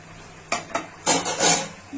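Fried lentil dumplings (bori) drop into a pot of cauliflower curry, making a few clinking metal-pot and spoon knocks followed by a brief sizzling, stirring clatter, close and moderately loud.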